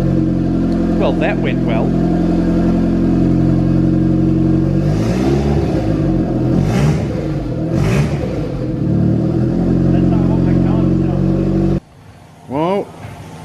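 A Mazda Miata with a homemade turbo setup, running off the downpipe, cranks and fires, then revs in rising and falling bursts near and loud, before cutting out abruptly; someone speaks briefly at the end.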